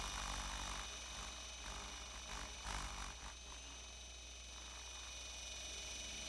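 A simulated Tarot RC helicopter climbing at full power on low rotor RPM, giving a steady, loud electronic whine with a continuous high-pitched tone and a droning rotor buzz throughout, no talking.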